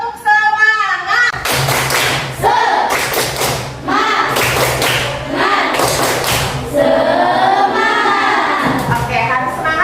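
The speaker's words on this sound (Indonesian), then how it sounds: "Kalau sudah, ayo kita tepuk semangat." A school class performs the tepuk semangat spirit clap, bursts of group clapping and thumps in a patterned rhythm separated by short pauses, with children's voices chanting along between and over the claps.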